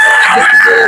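A rooster crows loudly and very close in a single short call, with a strained, tonal quality.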